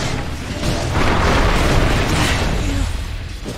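A tower being destroyed in Dota 2: a loud, sustained booming explosion with rumbling debris that holds steady for a few seconds before easing off, with no voices over it.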